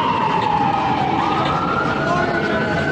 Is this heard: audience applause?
no